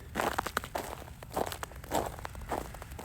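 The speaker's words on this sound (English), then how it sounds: "This is all like very nice and crunchy, and I'm not slipping on it at all." Boots crunching over fresh snow in Texas, a series of close, distinct crisp steps at an uneven walking pace, each a short crackling crush with quiet gaps between.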